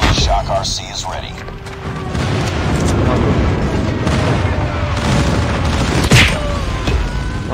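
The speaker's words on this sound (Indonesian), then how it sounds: "Friendly airstrike incoming." Airstrike explosions in a ranked online shooter match, a loud sustained rumble of booms and blasts with a sharp, heavy impact near the end, dense and close.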